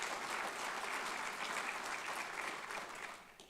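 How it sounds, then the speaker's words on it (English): Steady applause from an audience at an alumni awards celebration, continuous clapping throughout that tapers off slightly near the end. "Let's give her a round of applause right there."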